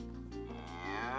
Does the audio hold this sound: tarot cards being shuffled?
no